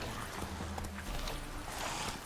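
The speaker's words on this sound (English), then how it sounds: "Oh, the horse is really freaking out already." Hooves of Roach, a horse in The Witcher 3 video game, clatter in a steady clip-clop over a dense, busy game soundscape, fairly loud and continuous throughout.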